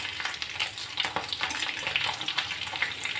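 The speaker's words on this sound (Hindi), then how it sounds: "आलू हमारा एक तरफ से फ्राई हो चुका है, इसको अभी पलटना है और बिल्कुल हल्के हाथों से बॉईल आलू है ये।" Boiled potatoes frying in a pan, a steady close sizzle with scattered crackles and soft turning scrapes, no voices over it.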